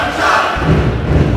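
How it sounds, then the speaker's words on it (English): A wrestling video game crowd from WWF Attitude on Dreamcast roars in a brief, dense burst of arena noise with thuds mixed in, loud and continuous over a second and a half. "This crowd is crazy!"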